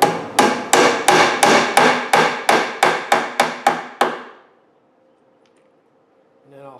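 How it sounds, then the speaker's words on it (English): A hammer drives wooden dowels into holes in a router table with about twelve sharp, ringing strikes in a steady rhythm, close and loud, then the ringing fades into near silence before a brief voice. "just put these dowels in these holes"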